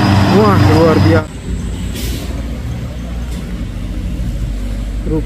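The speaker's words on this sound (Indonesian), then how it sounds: "Truk box emas Fuso Victor X ketenggak bosku." A gold Fuso Victor X box truck labors up a hill, its deep diesel rumble steady and fairly loud after a brief burst of other sound at the start.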